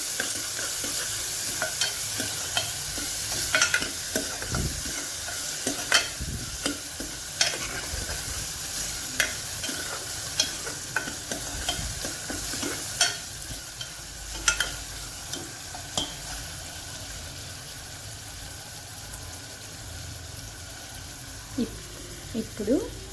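A spoon stirs an onion mixture in a tempering pan for a yogurt curry, making repeated scraping clacks over a steady low sizzle. A voice speaks faintly at times.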